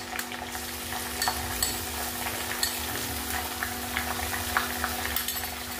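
Ginger, garlic and green chili, crushed in a mortar and pestle, fry with onions in a pan, making a constant close sizzle dotted with light clicks and scrapes of stirring, with no voices.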